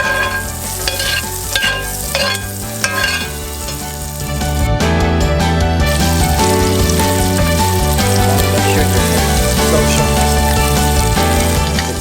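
Crab cakes made with Florida stone crab fry in about a tablespoon of butter in a pan, a steady close sizzle and crackle that swells louder midway and holds continuously to the end, with no voices.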